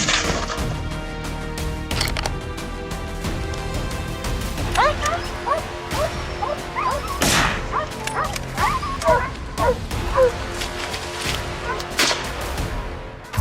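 Hunting dogs on a wild boar hunt in rugged Turkish terrain bark, yip and whimper repeatedly, close and excited, over a busy backdrop of rustling and movement.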